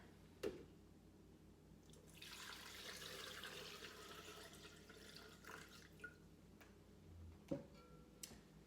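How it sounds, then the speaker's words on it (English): Water being added to grated ginger when making ginger beer from scratch. A quiet, steady pour lasting a few seconds, with faint drips and small clinks before and after, and no talking. "Put some more water in there."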